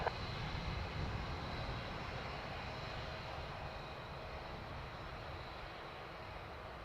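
An airplane taxis at Dublin Airport, its engine a steady, faint, broad roar and whine that holds evenly throughout.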